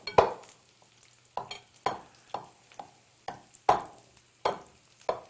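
A homemade hand chopper striking the inside of a bowl, likely not stainless steel, during Passover food prep: a series of sharp, close knocks in an uneven rhythm with short decaying tails, no voices.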